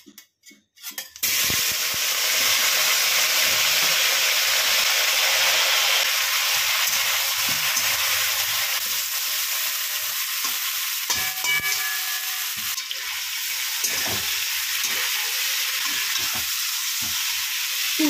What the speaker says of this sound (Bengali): কড়াইতে তেল গরম করে প্রথমে ফুলকপিগুলো ভেজে নিচ্ছি